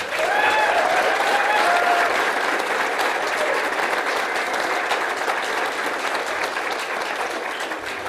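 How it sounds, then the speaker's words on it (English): Loud, sustained applause from a large crowd at a student graduation-season ceremony, steady clapping that fades slightly toward the end, with a few brief voices at the start. "One final round of applause for our students."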